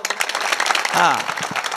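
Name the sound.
audience clapping loudly at a kirtan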